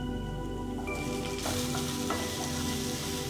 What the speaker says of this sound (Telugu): ఇవి నూనెలో కొంచెం మగ్గినాక ఇందులోనే ఒకప్పుడు క్యాప్సికమ్ తురుమేస్తున్నాను